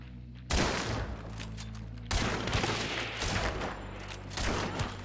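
Winfield rifle fired rapidly in the video game Hunt: Showdown, with loud close shots landing in quick succession and bursts of gunfire that repeat over several seconds.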